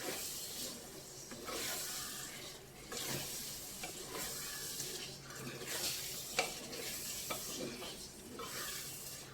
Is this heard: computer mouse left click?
no